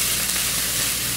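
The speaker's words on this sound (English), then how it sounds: "Okay, so I'm putting our nuggets in this pan here." Salmon nuggets frying in a pan of leftover bacon grease over medium-high heat, giving a steady, close, dense sizzle that stays even throughout with no talking.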